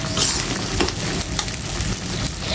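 Jackfruit seeds and dried loitta fish sauté in a hot pan for a spicy mashed dish, giving a steady, loud sizzle with scraping stir strokes and no talk.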